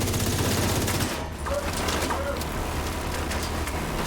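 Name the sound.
gunfire in the video game The Division 2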